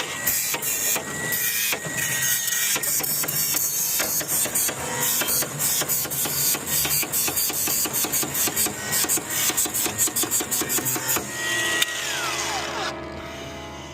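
An angle grinder cuts and grinds through parts from a stripped-down old piano, a steady loud metallic rasping with repeated sharp knocks and bangs throughout, then the motor winds down near the end.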